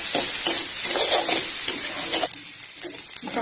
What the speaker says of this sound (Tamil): சேர்த்து முட்டை இதை பொரிச்சு எடுத்துப்போம்